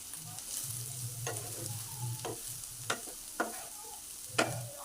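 Gourd peel and potatoes frying in a pan over high gas, a soft continuous sizzle with a few sharp spatula scrapes and taps, close by and fairly quiet.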